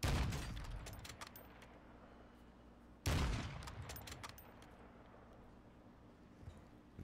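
Gunfire in the DMZ mode of a Call of Duty–style shooter: two loud bursts of shots, one at the start and one about three seconds later, each trailing into a distant echoing rumble, with no talk over them.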